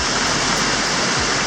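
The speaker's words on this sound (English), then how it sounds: "They have many small steps or levels from where the water is flowing down." Water pouring down the many small levels of a hot spring waterfall in Krabi, Thailand, a dense, steady rushing roar, close and loud with no break.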